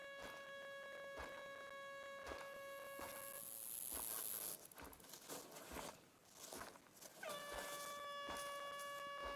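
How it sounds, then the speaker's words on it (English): A loud, sustained air horn in a hunting video game blares in long harmonic blasts, cutting out midway amid scattered clatter and thumps before sounding again toward the end. "Our air horn is running out of air."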